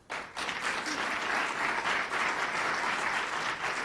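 An audience claps continuously after a brief quiet start, the applause steady and full throughout, heard at a Massachusetts free community college event in Boston as a Senate President is called to the podium.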